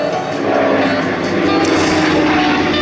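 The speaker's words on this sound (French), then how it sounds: "un avion donc, qui a servi également d'avion de liaison au général de Gaulle pendant de nombreuses années." A Dassault MD312 Flamand aircraft passes at the 2023 Fête de l'Air air show in Les Mureaux, giving a loud, continuous roar of engine and propeller noise that stays close and fills the whole moment with no voices.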